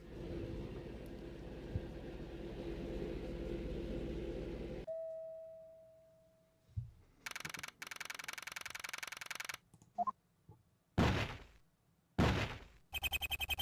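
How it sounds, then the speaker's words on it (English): A stuck front door in a video game is tried repeatedly: a low hum and a brief tone give way to a series of sharp, loud thunks and rattling bursts separated by silences, with no voices. "That's strange. The front door's stuck."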